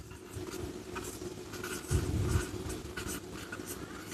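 Chalk or marker scratching across a board during a Class 12 physics lesson on electric charge, soft scraping strokes with a louder patch near the middle, over a quiet room background.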